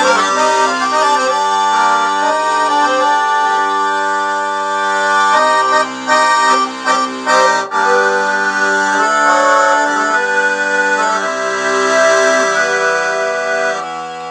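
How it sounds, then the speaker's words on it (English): A Roland digital accordion plays a full, slightly aggressive sustained sound, holding thick reedy chords that change every second or so in a loud, continuous passage with no talking. "It's a full, slightly aggressive accordion sound."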